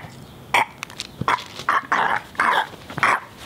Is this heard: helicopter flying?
no